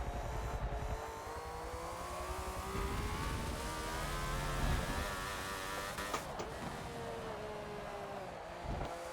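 A 1976 Ferrari F1 car's engine in Forza drones continuously at Hockenheimring, a strained high-revving wail with shifting pitch and brief gear changes, loud and steady throughout without talk.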